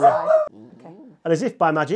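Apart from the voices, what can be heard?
dog barking and yipping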